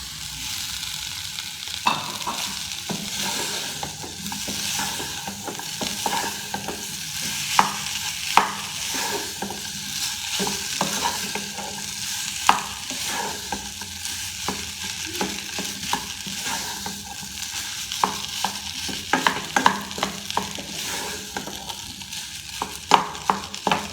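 Potatoes fry in a pan with a continuous soft sizzle while a utensil stirs and scrapes through them in repeated sharp clicks and knocks, close and moderately quiet, with no talking.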